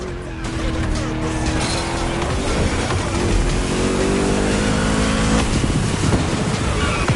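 A car engine in The Crew Motorfest fires up and revs hard, a loud continuous roar with rising and falling pitch sweeps and some tire noise, close and dominant throughout.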